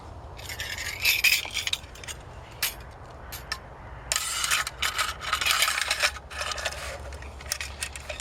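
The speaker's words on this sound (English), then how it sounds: "the whole saw slots together like so for transportation in a pack or in a canoe or in the back of your car" Aluminium parts of a folding buck saw being slotted together, with close metallic clinks, rattles and scrapes coming in several irregular bursts, no talking.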